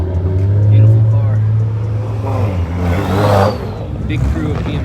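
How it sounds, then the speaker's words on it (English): Group of BMW cars, loud E92 M3s among them, rolling into a big car meet, engines droning and surging past nearby with a few exhaust crackles, while voices talk in the background. "Big crew of BMWs coming in, lots of pops."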